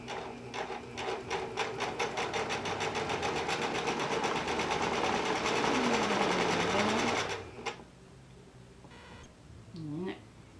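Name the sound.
sewing machine stitching knit sleeve with polyester thread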